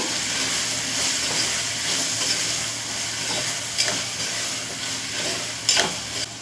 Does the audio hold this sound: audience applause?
no